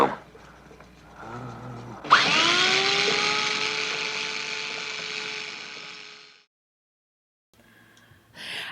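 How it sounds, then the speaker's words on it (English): Cranial surgical drill whirring in a 1966 film operating-room scene, a single sustained high-pitched whine that starts abruptly, holds steady for about four seconds with a falling pitch at onset, then stops, followed by faint room noise. "Cranial drill."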